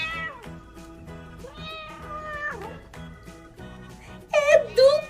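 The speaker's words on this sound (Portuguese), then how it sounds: "É do gato!" A cat meows several times with drawn-out, wavering cries, and the loudest, highest calls bunch up near the end of the passage.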